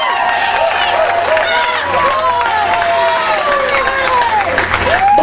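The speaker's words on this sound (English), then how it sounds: "So let's give him a round of applause" A crowd at a music Hall of Fame induction applauds a legendary inductee, continuous loud clapping layered with cheers and whoops and a busy hubbub of voices throughout.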